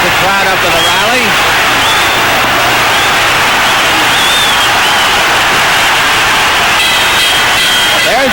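A boxing crowd roars in a dense, continuous wash at the Ernie Terrell vs George Chuvalo fight late in round 4. A commentator talks over the noise.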